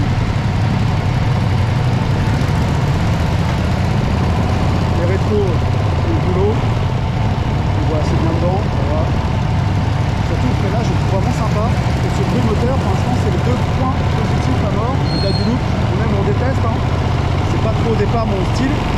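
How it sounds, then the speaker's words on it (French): A 2025 Ducati Streetfighter V2 twin-cylinder engine holds a steady, throbbing idle close by for the whole stretch, while someone talks in French over the running motor. "Et ce moteur, il est top. Ah ouais, ça fait un petit bruit, je me demande comment ils ont homologué ça."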